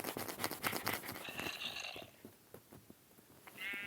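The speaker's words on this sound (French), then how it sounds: "mouton" Sheep bleating in the Minecraft video game, a couple of short quiet bleats amid soft in-game rustling and ambient noise, no talk.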